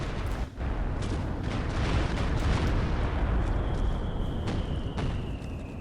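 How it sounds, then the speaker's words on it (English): A Rocket Barrage artillery strike in a strategy video game pounds a central capture point as a dense, steady rumble of overlapping blasts, with sharp pops standing out near the start and again later. "Rocket Barrage on the center, locking down the VP."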